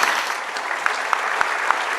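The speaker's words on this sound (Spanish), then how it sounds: "Que un aplauso, por favor, para Juan José Pilar." An audience at a Spanish literary talk gives brief, steady applause, a dense patter of clapping with a few sharper individual claps standing out, fairly close and with no voices over it.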